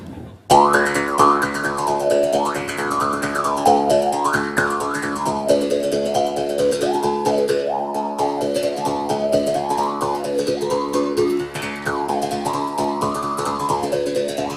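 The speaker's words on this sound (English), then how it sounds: "It's called the mouth bow." A twangy plucked mouth bow string with a pitch-shifting, wah-like resonance that rises and falls continuously, played alone and fairly loud for the whole stretch.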